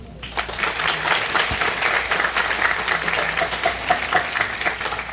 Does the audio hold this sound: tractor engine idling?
no